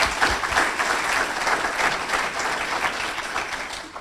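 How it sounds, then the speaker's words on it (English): A club luncheon audience applauds kids and their supporters, a full, steady round of clapping that holds strong for several seconds before easing slightly. "Applause, please."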